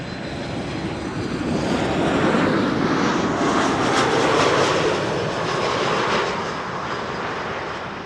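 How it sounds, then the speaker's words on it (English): A WestJet Boeing 737 MAX 8 arrives at Amsterdam Schiphol on a flight from Halifax, its jet whine and roar rising to a close, loud pass before easing off again. "WestJet, flight 70, arriving from Halifax, Canada."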